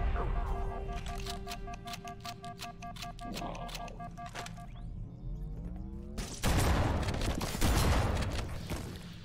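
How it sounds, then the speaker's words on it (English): Shotgun fire in Halo: Combat Evolved Anniversary on Legendary difficulty, with a rapid run of sharp, loud blasts and clattering action sounds, then a heavier burst of impacts near the end, with a player's voice speaking over the game. "this shotgun is fucking king, bro"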